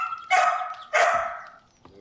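A dog barks twice in quick succession, close and fairly loud, with a brief pause between the two sharp barks.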